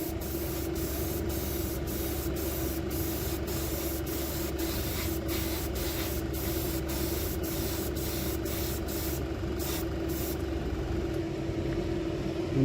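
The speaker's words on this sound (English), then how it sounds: "let's go in with a slower coat this time" An airbrush sprays metal flake fabric paint in a steady hiss, with short regular bursts from the trigger running over a constant low compressor hum, close and without talk.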